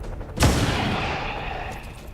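A single loud gunshot from a pistol in the XCOM 2: War of the Chosen video game, a sharp blast followed by a long reverberant decay and lingering battle ambience.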